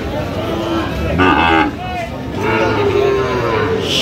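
A Sahiwal bull lows loudly at a busy cattle market in Dinajpur, with two drawn-out moos over steady crowd murmur and nearby voices.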